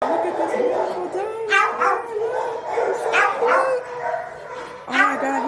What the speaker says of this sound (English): Look at this beautiful dog.